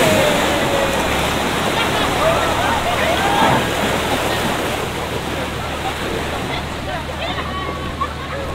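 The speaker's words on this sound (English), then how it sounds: "this is where they do one of their splashdowns on the Wisconsin Dells ducks" An amphibious duck boat at Wisconsin Dells splashes down from land into the water, a loud, sustained rush of churning water and spray with wind noise, and people talking and calling out around it.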